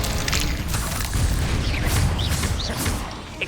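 A Confringo blasting spell explodes in Hogwarts Legacy, a loud, sustained booming blast with rumbling low end that holds for about three seconds before fading, with no talk over it.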